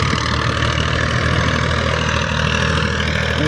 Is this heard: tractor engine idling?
yes